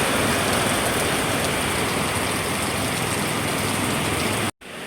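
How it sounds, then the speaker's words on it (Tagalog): Heavy rain pours steadily, a dense, loud roar of rainfall on surfaces that fills the whole stretch before cutting off abruptly near the end. "Maulan ang birthday."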